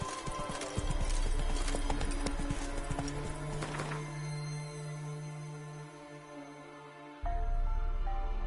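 The horse Roach's hooves clip-clop steadily in Witcher 3, close and rhythmic over a loud ambient backdrop with a sustained low tone in the middle.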